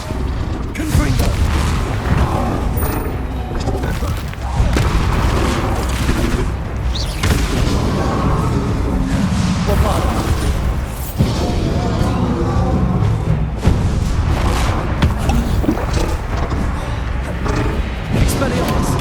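Confringo fire-spell explosions go off repeatedly during a chaotic spell battle in Hogwarts Legacy. Loud booms and crashes come one after another amid constant combat noise, with voices talking throughout.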